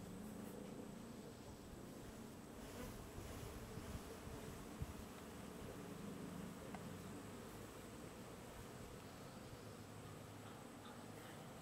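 Honey bees buzz steadily around capped honey frames at a hive, a faint, dense, continuous drone with light rustling and no voices.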